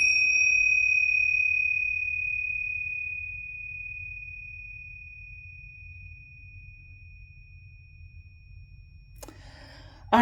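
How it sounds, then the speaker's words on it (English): Tincture bells are struck once, giving a bright, pure ring that hangs in the air and slowly fades over several seconds above a low background hum. A short rustle follows near the end. "I'm going to use my tincture bells,"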